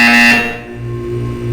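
Loud electronic buzzer in Portal 2, a single sustained harsh tone that sounds at full strength, dips briefly, then continues droning to the end.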